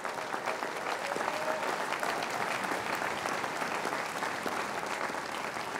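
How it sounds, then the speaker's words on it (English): Sustained audience applause fills a commencement ceremony at William & Mary in 2018, a dense, steady wash of many hands clapping at even loudness throughout with no talk over it. "Please give them a nice round of applause."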